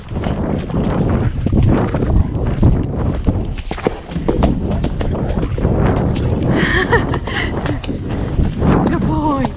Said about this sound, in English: I want to show you my little canter up the hill, which is a new one I found